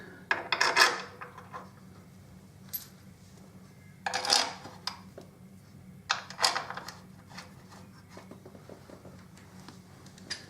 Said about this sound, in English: put the bolts back in